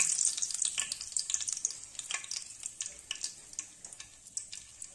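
Green chilies and black mustard seeds crackle and sizzle in hot oil for a tempering, a close, steady spatter of fine pops that thins out slightly toward the end.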